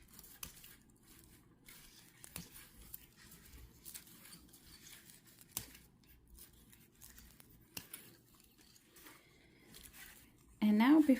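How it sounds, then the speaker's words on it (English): Scissors snip through crochet raffia loops in a string of small, sharp, sparse clicks and cuts, faint and close over a quiet room, with a voice starting to speak at the very end. "now cut through these loops"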